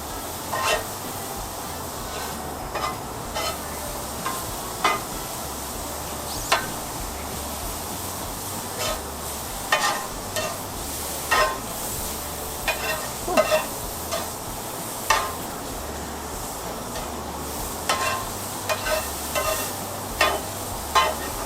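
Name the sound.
mushroom and Swiss smash burger frying on a stove griddle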